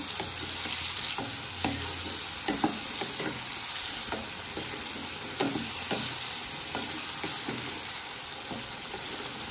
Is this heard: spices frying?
yes